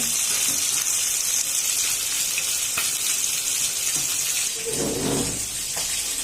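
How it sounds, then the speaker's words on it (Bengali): Meat fries in a pan as part of a khichuri cooking session, giving a steady broadband sizzle throughout with a brief stirring or clinking moment near the end. "মাংস ভাজা হচ্ছে।"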